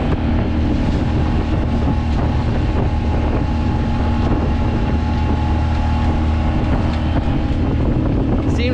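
Strong wind buffets a sailboat out on Sutton's Bay in a steady, loud roar of gusts against the microphone, with faint water and boat noise underneath and no talking.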